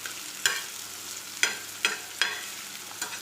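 Onion frying in a pan over a soft, steady sizzle, with about five sharp spatula scrapes at irregular intervals and no voices.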